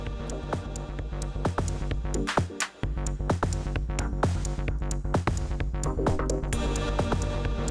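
Synthesizer preset in Ableton Live playing dense layered electronic music with steady sustained tones and sharp percussive hits in a regular rhythm, loud and continuous, with a brief dropout near the middle.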